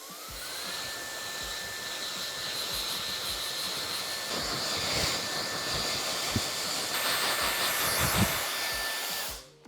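A hair dryer blows a steady, loud, close whooshing roar with a constant motor whine while drying long hair, with light handling rustles as it is moved, then cuts off at the end; no speech.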